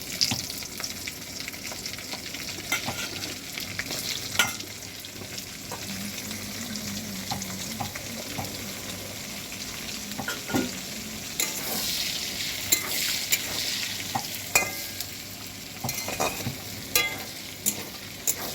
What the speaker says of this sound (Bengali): মাংস ভাজার তেলে প্রথমে ক্যাপসিকাম